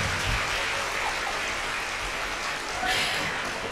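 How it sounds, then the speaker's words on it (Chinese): A school auditorium audience applauds a dance group at a middle school wind band concert, a steady, dense wash of clapping holding for several seconds with a few voices mixed in. "来给我们的舞群掌声鼓励一下吧"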